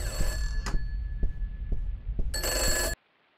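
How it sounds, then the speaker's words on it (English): A telephone rings in a horror video game, a repeated electronic trill over a low throbbing heartbeat-like pulse and dark ambience, cutting off abruptly into near silence. "Oh, look, here's the phone."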